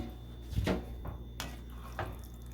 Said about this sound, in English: I'm gonna add a little bit of water,